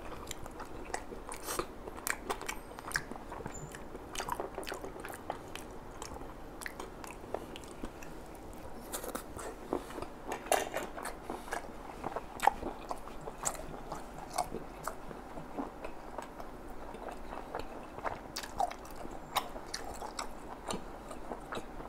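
Steamed bulot sea snails being bitten and chewed close to the mic, with repeated soft crunches and wet squishy chewing spread unevenly over a quiet background and no talking.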